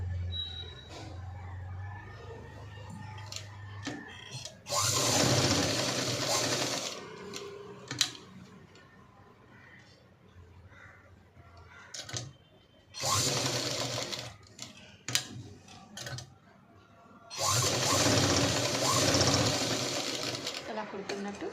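Sewing machine stitching a pencil-cut pant, running in three loud sustained bursts of rapid mechanical whirring, separated by quieter stretches with soft handling sounds and a speaking voice.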